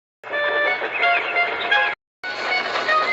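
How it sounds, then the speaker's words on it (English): A loud steam train pulling heavy coal trucks rumbles with a tonal, whistling overtone, heard in two long stretches split by a brief moment of silence. "He was pulling a train of heavy coal trucks."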